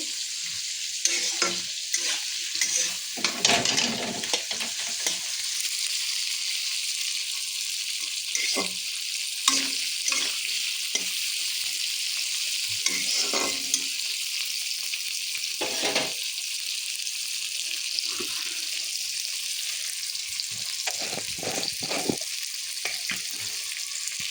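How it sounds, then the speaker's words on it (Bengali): Onions and garlic fry in a pan in a steady, close sizzle that runs throughout, broken by occasional stirring scrapes and clinks; no one speaks. "এবার পেঁয়াজটা ভাজা ভাজা হয়ে গেলে, পেঁয়াজ রসুনটা যে ভাজা ভাজা হয়ে যাবে"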